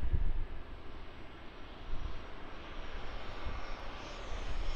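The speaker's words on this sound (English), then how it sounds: "Might be another 7-3 coming in runway 16 right here at Sydney Airport." A Jetstar Airbus A320 jet approaches Sydney Airport's runway 16, a steady broadband engine roar that holds loud and even throughout, with no talk.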